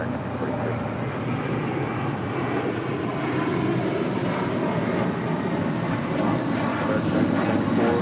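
Jet airliner taking off from runway 25 right at LAX, a steady broad roar that holds loud and continuous throughout, swelling slightly toward the end.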